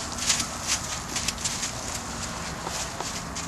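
A big horse being worked at a bucking stock rescue in Colorado, hooves clip-clopping in a soft, uneven walking rhythm at moderate distance, with faint outdoor background and no talk.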